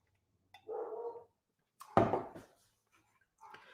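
Dogs barking at a package delivery, three short separate barks with gaps between them, moderately close and heard indoors.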